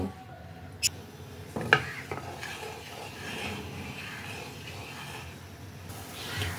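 Sugar syrup stirred in a pan over a medium flame, heard as soft scraping and rubbing with a couple of sharp utensil clinks against the pan early on, close and fairly quiet, over low background hiss, with no talking.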